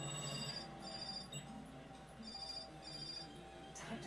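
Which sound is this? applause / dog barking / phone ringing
phone ringing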